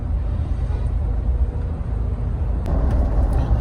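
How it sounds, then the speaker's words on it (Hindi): Road traffic crawling in a long traffic jam on the way to Daman, a steady low engine rumble and road noise from cars close by with no voices, growing slightly louder and busier toward the end. "प्रॉपर 1 घंटे का ट्रैफिक जैम था"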